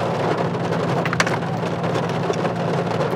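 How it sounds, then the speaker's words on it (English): Steady downpour of heavy rain hissing on surfaces, with a low rumble underneath and a few sharper drops standing out. "We'll hang out while it rains."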